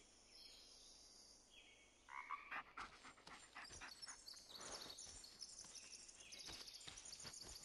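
Dog panting in the Blair Witch video game on Nintendo Switch: quick, breathy pants start about two seconds in and run on in an uneven rhythm, fairly close, over a hissy game ambience with no talk.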